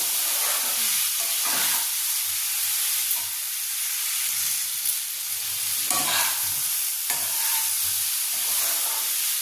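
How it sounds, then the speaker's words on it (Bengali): Potatoes with a splash of water get stirred through spices in a frying pan, a constant hissing sizzle with a few louder scraping strokes at intervals. "এবার এর মধ্যে আমি কিন্তু আলুগুলো দিয়ে দেবো আর দেবো সামান্য একটু জল। আগে একবার মিশিয়ে নিচ্ছি।"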